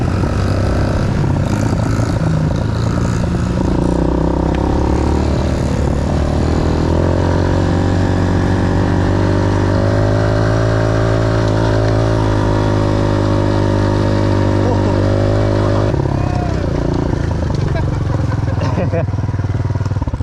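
A child's dirt bike engine revs loudly and steadily as it climbs a dirt trail in Jarrahdale, Western Australia, a close, droning motor sound that holds for most of the stretch before easing off near the end.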